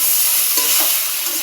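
Vegetables frying in a pan for a vegetarian curry, a steady close broadband sizzle with faint stirring scrapes, no voices.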